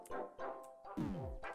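Greater Dog from the Undertale video game barking, several short yips and bow-wows in quick succession with a rising, falling whine between them, close and clear with no talking.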